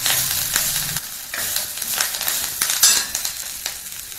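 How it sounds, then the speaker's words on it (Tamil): Vadha narayana leaves fry and sizzle steadily in hot oil in a pan, loud and close, with stirring and occasional scrapes of a utensil against the pan. "வாத நாராயண இலை, இந்த இலையை பச்சையாக போட்டு வணக்கணும்."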